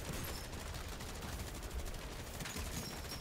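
Rapid automatic gunfire in MW3 Zombies, a dense, continuous volley of shots blasting at zombies, loud and unbroken throughout.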